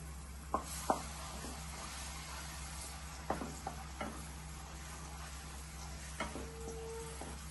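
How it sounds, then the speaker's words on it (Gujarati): Onion paste sautés in a pan with a soft, steady sizzle under a low hum, broken by occasional light clicks and scrapes of stirring. "ડુંગળીની પેસ્ટને એકાદ બે મિનિટ માટે સાંકળી લઈએ"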